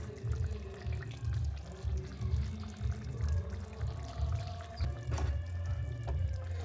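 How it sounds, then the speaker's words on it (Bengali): Fried catla fish pieces go into a pot of boiling broth with slit green chillies, giving a steady close bubbling and gurgling simmer with a brief splash partway through. "জল ফুটে এসেছে, এখন আমি চেরা কাঁচা লঙ্কা এর ভিতরে দিয়ে দেবো। এবারে দেবো ভেজে রাখা মাছ।"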